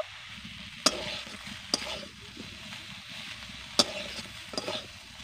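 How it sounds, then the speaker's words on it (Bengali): Moringa drumsticks coated in mustard and onion paste fry in a pan with a steady low sizzle, broken by a few sharp clacks of a spatula stirring them. "এবার এগুলোকে আমি ভালো করে ভেজে নেব"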